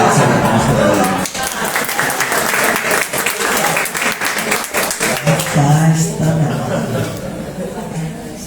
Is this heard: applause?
yes